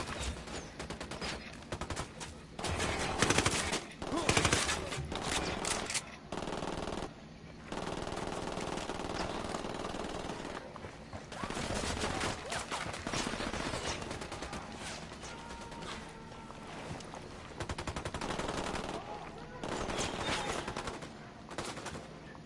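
Sustained automatic gunfire from the tactical shooter game Ghost Recon Wildlands: dense bursts and rapid shots rattle almost continuously for the whole stretch, loud and close, with brief lulls between volleys.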